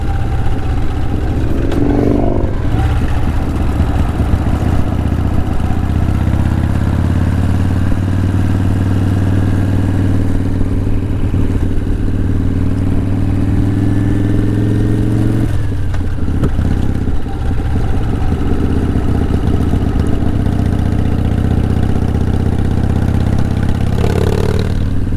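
A vintage Harley-Davidson Softail motorcycle engine rumbles steadily throughout while being ridden, a loud, continuous low throb with slight shifts in pitch and a brief dip in the middle, mixed with wind and road noise.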